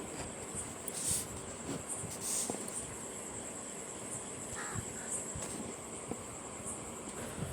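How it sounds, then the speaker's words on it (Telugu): Crows caw repeatedly at a farm field during an outdoor meal, their calls coming in several bursts over steady rustling background noise, with an insect-like high tone running throughout. "ప్రజెంట్ ఈ వీడియోలో అయితే కాకులు మోతలండి చాలా ఇరిటేటింగ్గా ఉన్నాయి"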